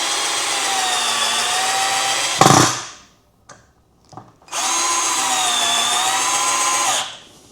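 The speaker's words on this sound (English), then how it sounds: "running it through this 2-inch board." A cheap Harbor Freight cordless drill strains as it drives screws through a 2-inch board, giving two sustained, loud whirring runs separated by a short pause with a few faint clicks and knocks.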